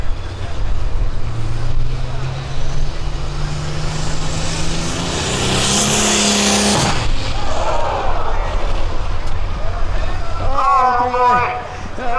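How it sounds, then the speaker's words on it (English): Turbocharged pulling tractor at a county fair tractor pull, engine roaring loud and sustained with a rising then falling whine before fading, as an announcer talks throughout. "That was a turbocharger in big fashion."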